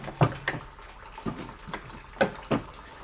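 Coolant draining from the radiator of a 2004-2006 Toyota Sienna, heard as splashy liquid bursts with a few distinct gushes and pours over a steady low background.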